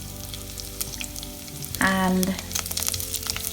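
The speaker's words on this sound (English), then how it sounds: "So I'm frying all the ingredients on medium heat." Curry leaves hit about a tablespoon of hot oil over medium heat and sizzle loudly, a sharp burst that settles into a steady crackling fry, with a brief voice heard over it.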